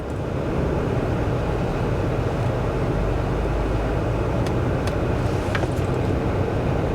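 2022 Infiniti QX60 Autograph SUV creeping through a full-lock turning circle, a steady loud cabin rumble of engine and tire noise with a few faint creaks and ticks near the end, no talking.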